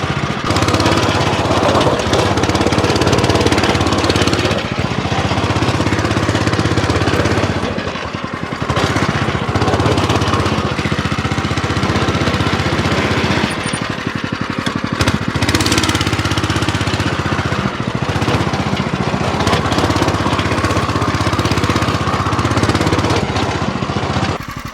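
Engine of a homemade mini tractor running steadily and loudly, a rough, continuous mower-like drone held close up with little variation and no talk.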